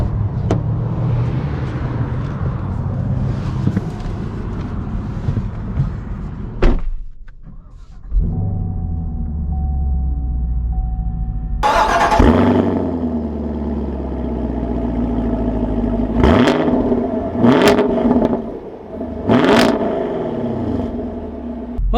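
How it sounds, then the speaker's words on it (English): A 2021 Chevy Camaro SS convertible cranks and its V8 fires up, settling into a rumbling idle, then revs in several loud bursts that rise and fall, close up. "Let's take this SS convertible out and see how it drives."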